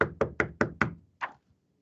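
Someone knocks on a door five times in a quick, even rhythm, pauses, then knocks once more, each rap crisp and fairly close with no talking.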